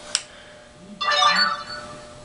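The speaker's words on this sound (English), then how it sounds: "My phone just went off." A mobile phone goes off with a short bright chime, then a louder ringtone melody plays for about half a second before fading, close by in a quiet room.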